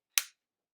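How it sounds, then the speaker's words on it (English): A single sharp, close click from the safety switch of a Barra 1911 BB air pistol, over in a fraction of a second and surrounded by silence. "To engage the safety, slide the safety switch up."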